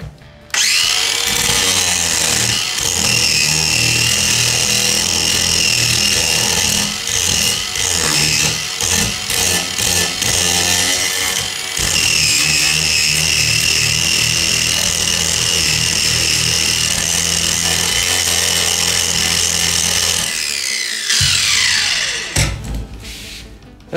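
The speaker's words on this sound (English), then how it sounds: "I want to get a grind on it to get it smooth where my foam board will lay down smooth" An angle grinder smooths cured JB Weld Steel Stick filler on a bus floor, running loud and close for nearly the whole stretch with a steady whine that shifts pitch as it bites, before spinning down near the end.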